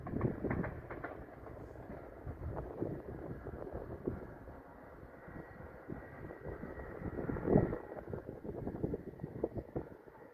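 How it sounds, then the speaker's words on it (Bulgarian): A single-car train passes at a moderate distance near the village of General Todorov, Bulgaria, a low rolling clatter with wind buffeting the microphone throughout. "Ето го и едновагълния влак."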